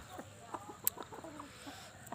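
Hens and a rooster clucking in a farmyard, a scatter of short uneven clucks and one sharp squawk, heard at moderate distance over a low outdoor background hiss.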